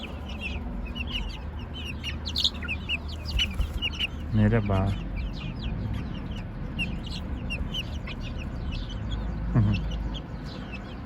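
Chickens cluck and squawk nearby in a noisy farmyard, with a loud burst of fowl calls midway and another shorter one later; a person briefly speaks.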